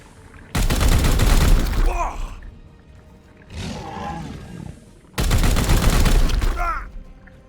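Gunfire in Warhammer 40k: Chaos Gate Daemonhunters, two loud, dense bursts of shots about four seconds apart, separated by a quieter rumbling roar in between.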